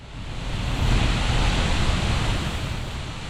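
A strong roadside waterfall in a mountain valley, swollen with heavy rain, gives a steady, loud, close rushing roar that swells slightly and holds without a break, with no voices.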